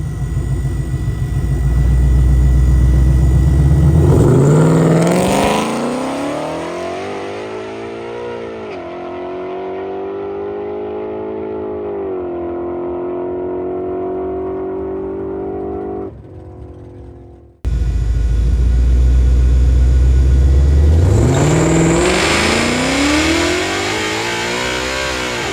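A supercharged Ford GT500 launches down a drag strip in second gear, its engine roaring loud and close as revs climb steadily, then a brief drop-off before the engine surges again at full volume.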